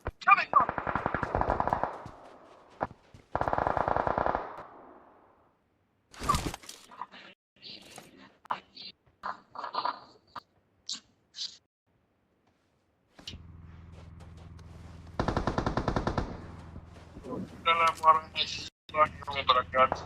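Machine gun fire in the mobile battle royale game PUBG Mobile on the Livik map: several loud automatic bursts, separated by gaps and mixed with other game sounds and spoken voice callouts.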